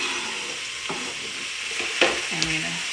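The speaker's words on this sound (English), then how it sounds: "I'm gonna give it a good stir" Chopped celery and other vegetables sautéing in a soup pot for lentil soup, a continuous close hiss with a few scraping stirs and clinks of the spoon against the pot; no talk.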